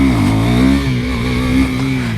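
A KTM Duke 390 motorcycle engine revs loud and close, its pitch climbing and then settling into a steady high drone with slight surges.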